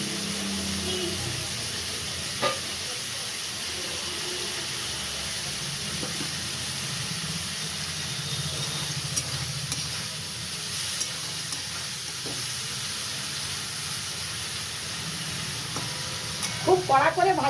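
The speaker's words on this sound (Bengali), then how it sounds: "কড়াইয়ে আমি চিংড়ি মাছগুলো দিয়ে এরপরে ভাজতে দিলাম।" Prawns frying in oil in a kadai while potol chingri is cooked, giving a steady close sizzle that runs throughout, broken by occasional clinks and stirring scrapes.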